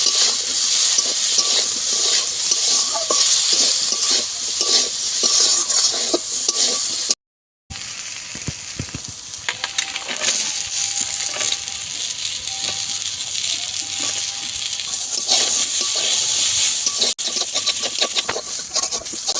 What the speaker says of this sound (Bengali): দেবো হলুদের গুঁড়ো দিয়ে ভালো করে ভেজে নেব